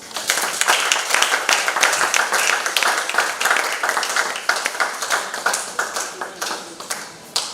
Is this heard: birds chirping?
no